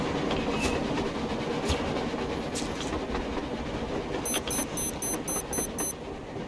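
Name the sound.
train passing, from a video game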